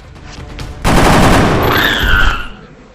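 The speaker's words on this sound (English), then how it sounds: "Central, we're taking fire from multiple X-rays!" A sudden loud burst of sustained automatic gunfire in the strategy game XCOM: Enemy Within, roaring for about two seconds up close before tapering off, with a ringing tone trailing afterward and no talking.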